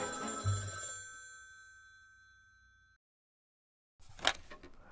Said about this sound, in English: Calls from all around the world rang out.